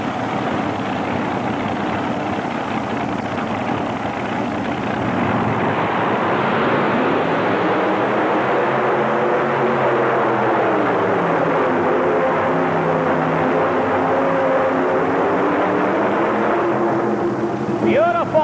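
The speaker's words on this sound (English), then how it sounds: "640 cubic inches of fuel-injected supercharged Arias racing engine." A 640-cubic-inch fuel-injected, supercharged Arias racing engine in a tractor puller roars loudly and steadily at a 1989 NTPA pulling event in Indianapolis, its pitch climbing as the run goes on, with no talk over it.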